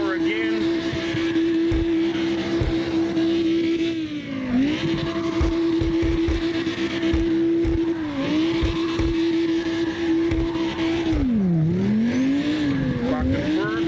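A car drifting with the handbrake in the CarX Drift Racing Online video game, a loud sustained engine tone dipping and rising as revs change, with tire squeal and someone talking over it.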